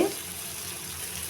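Fish sizzling steadily in a frying pan, a continuous soft hiss at close range with little change throughout.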